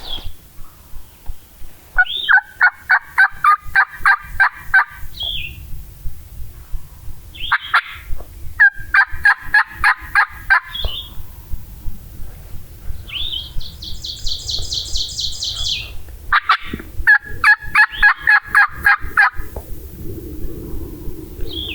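A wild turkey gobbler gobbles repeatedly in a valley on public hunting land, loud rattling calls recurring every few seconds, with other bird chirps and yelps between them outdoors.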